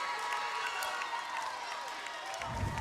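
A home crowd at a high school basketball game, Kiowa County against Spearville, roars and applauds after a 4-point play, a steady wash of cheering with a deeper thump near the end.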